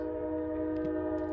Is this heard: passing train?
yes